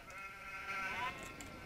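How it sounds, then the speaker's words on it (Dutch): Sheep bleat in the Emergency 4 game with the Egmond mod, a coastal Dutch town setting: one wavering bleat of about a second, moderately loud over steady background noise. "Schapen hier."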